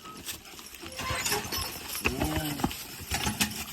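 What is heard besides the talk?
heavyweight Belgian horse hooves clip-clopping in the woods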